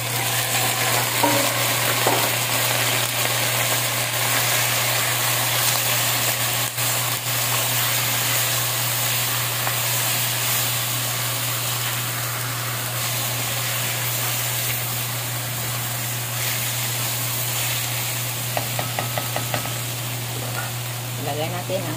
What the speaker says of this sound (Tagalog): Hintay natin siya nga makaramel ng ating karne.